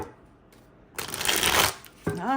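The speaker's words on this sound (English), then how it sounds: "let's do one more shuffle the other way because these are so" A large deck of cards is shuffled in one quick, crisp riffling burst lasting under a second, after which a voice begins speaking.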